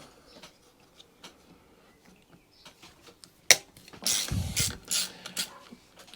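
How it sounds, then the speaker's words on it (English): A ratchet wrench clicking as it works on a Honda HHH25 hedge trimmer during carburetor removal, faint ticks at first, then a sharp knock and a run of louder, close ratcheting clicks. "Ratchet and bar."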